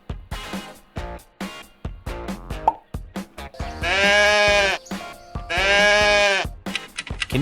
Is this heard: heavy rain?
no